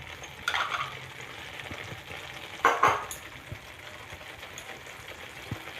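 Ghee going into a pan of palak paneer, two short bursts of sizzling over a quiet low simmer, with a few soft utensil taps, close and fairly faint.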